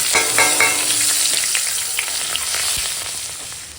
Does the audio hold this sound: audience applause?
no